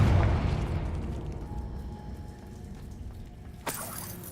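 A Confringo spell explodes in Hogwarts Legacy: a heavy, rumbling blast opens, fades to a low roar, and a sharp burst cracks near the end.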